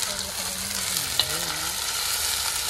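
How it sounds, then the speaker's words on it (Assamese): Chicken fries in a pan outdoors, a soft, continuous sizzle with a brief scrape or clink partway through, with no one talking. "তো আমি চিকেনখিনি দি দিলোঁ এতিয়া আমি গোটেইখিনি অলপ ফ্ৰাই হ'বৰ কাৰণে দি দিম"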